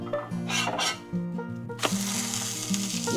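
A sourdough pancake sizzles in a hot pan, with steady close frying crackle, brief scraping or stirring sounds and a louder burst partway through.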